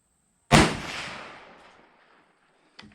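A single close, loud rifle shot from a Mossberg Patriot chambered in .350 Legend at a 25-yard range, a sharp crack followed by a long decaying echo and a faint click near the end.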